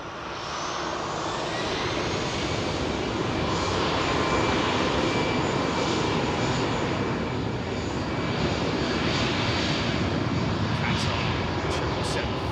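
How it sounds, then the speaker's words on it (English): A Qatar Airways Boeing 777-300 lands on runway 27 left, a loud, continuous roar of jet engines that builds slightly and holds, with no talk over it. "Qatar 777-300 landing, 27 left."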